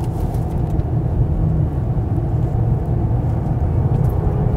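Mercedes-Benz E-Class braking hard from high speed into a deep U-shaped bend, a steady loud engine and road rumble rolling on continuously with no voices.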